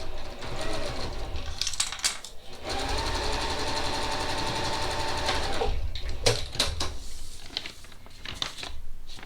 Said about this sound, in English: Take it to the machine, carefully put it under, and sew along A7.